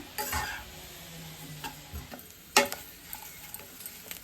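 Food frying in a pan at home, a soft sizzle under scattered stirring scrapes and a few sharp clinks of a utensil against the pan, close by with no talking.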